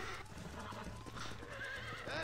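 A horse in the video game Red Dead Redemption neighs and whinnies while its hooves clop and stamp restlessly, loud and close over a busy, dense game soundscape.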